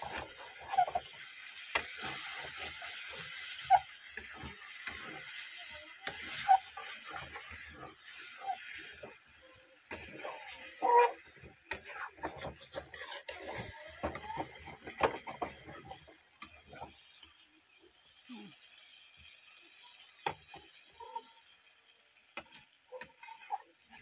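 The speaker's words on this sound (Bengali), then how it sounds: "এবার দিয়ে দেবো ভেজে রাখা আলু। ভালো মতো তাকে কষাবো।" Fried potatoes are worked through a spiced masala in a pan, a faint, steady sizzle under scattered scrapes and clicks from stirring that run on at a low level, with no voices.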